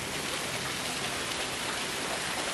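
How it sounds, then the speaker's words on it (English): Dense hail pounding steadily on a car, a loud continuous hiss of countless impacts with no gaps and no voices. "Like, there's not even a single droplet of rain. It's just all hail."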